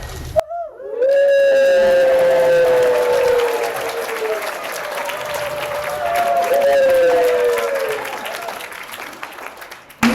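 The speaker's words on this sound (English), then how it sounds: "are we doing the round of applause for this?" A conference opening audience breaks into a long round of applause, loud and sustained, with drawn-out whoops and howl-like cheers rising over the clapping before it fades near the end.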